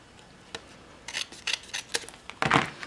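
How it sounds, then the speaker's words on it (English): Scissors cutting a strip off a paper layer for a handmade card: a series of close, crisp snips and crunches, sparse at first, then quicker and louder toward the end. "So I'm just going to cut that off."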